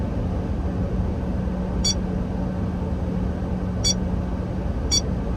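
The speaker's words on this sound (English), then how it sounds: "going over the speed limit that I set in the Blackvue app caused the dashcam to emit a constant beep" Three short, high electronic beeps from a BlackVue dashcam speed alert sound at irregular intervals over a steady low engine hum inside a moving car.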